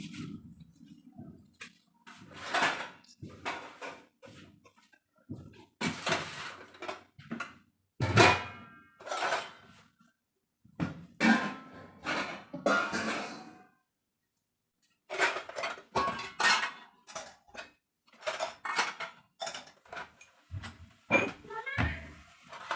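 Dishes and utensils gathered up and put away in a home kitchen, giving intermittent clatters, knocks and cupboard thunks in short bursts with brief pauses, fairly close.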